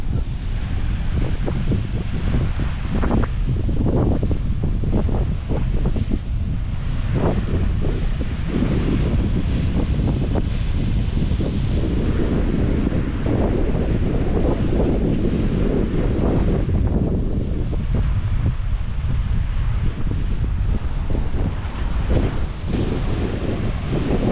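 Heavy wind buffets the microphone while waves surge and wash in continuously over a volcanic rock beach on Aruba, a loud, rumbling roar of sea on a shore.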